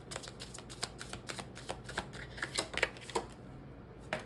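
Twin flame activation oracle cards are shuffled in quick, papery riffles, a steady run of soft slaps and flutters close by, slowing and thinning toward the end with no talking.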